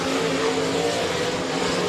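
Modified and RaceSaver sprint cars circle the dirt track at Crawford County Speedway, their engines producing a continuous, dense, moderately loud roar with no break.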